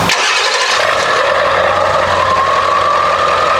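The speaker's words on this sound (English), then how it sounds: "We are going to fire up the truck today and show you guys exactly how it sounds" A 7.3 Powerstroke diesel truck with a 5-inch turbo-back exhaust starting up, a loud steady engine roar that settles into a continuous idle, close by and without talk.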